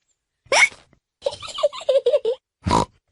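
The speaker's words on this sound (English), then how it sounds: "George's hiccups are spoiling the game." A cartoon piglet in a children's animated show hiccups, with a sharp hiccup, a burst of squeaky pig-like grunting in between, then a second hiccup, all close and clear with no talk.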